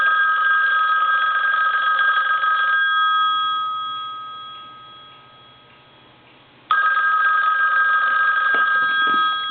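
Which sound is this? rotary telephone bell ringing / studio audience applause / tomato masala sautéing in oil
rotary telephone bell ringing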